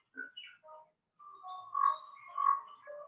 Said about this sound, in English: I can hear the bird's ambience.